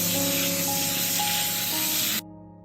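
Water sprays and hisses steadily over rice being rinsed for Persian albaloo polo, a continuous close rushing spray that cuts off abruptly near the end, with no talking.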